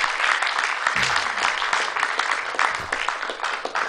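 Audience applause follows a magic act at a magic competition. The clapping is dense and sustained, with a few louder claps standing out near the start and middle, and is heard alone without speech.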